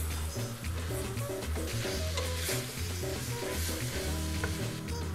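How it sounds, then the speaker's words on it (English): Chopped tomatoes stirred into sizzling browned meat in a pan, a steady close sizzle with scraping stirring strokes throughout. "I'm gonna add in about 5 tomatoes that I chopped up earlier."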